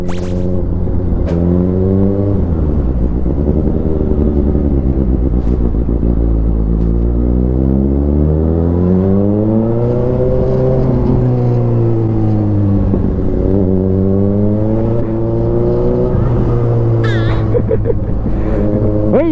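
A Suzuki GSX750 motorcycle engine revs close and loud for a sustained stretch, its pitch swelling and falling in repeated waves of throttle over a deep, rumbling idle.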